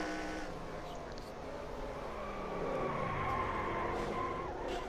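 Race car wreck replayed in the NR2003 racing game at Lee USA: a droning engine with tire squeal and skidding, rising slightly in loudness toward the end, heard without talk.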